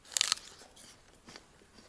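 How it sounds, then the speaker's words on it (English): Sharp, crisp crunch of a bite into a winter hanging apple, a bright burst up close followed by quieter chewing crackles. "the intense crunch, just like super almost icy crunch"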